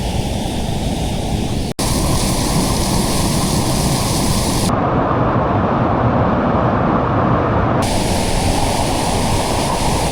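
A Dartmoor river rushes where it joins another stream, a loud continuous roar of fast water heard up close with no voices.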